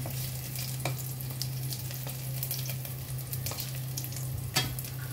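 Ginger sautéing in a pan, a steady sizzle with spatula scrapes and stirring clinks scattered through, close and fairly quiet with no talk.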